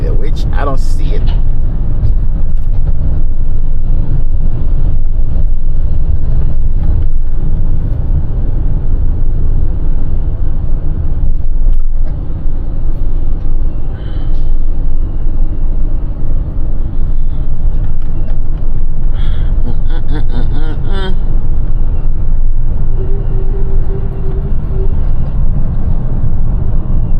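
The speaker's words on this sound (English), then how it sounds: "Crazy traffic." Heavy city traffic from inside a small box truck: a continuous dense roar of engines and road noise, with passing vehicles, occasional brake or horn-like squeals, and someone talking over it.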